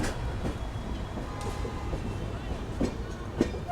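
Train rumble at Bengaluru City railway station, a steady broadband roar with a few brief metallic clanks and squeal-like tones, people talking faintly underneath.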